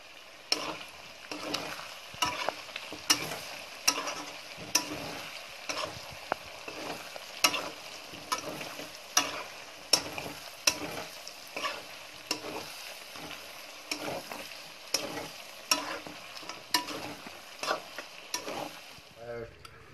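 Pork pieces with ginger and garlic frying in a pan for a blood-and-liver dry fry, a spatula stirring and scraping in a steady rhythm of sharp strokes over continuous sizzle, close and clear with no talk.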